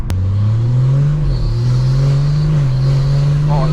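Close and loud, a BMW M240i engine drones at a steady pitch and rises through the revs, with a brief dip around a gear change early on and a short squeal of higher harmonics near the end.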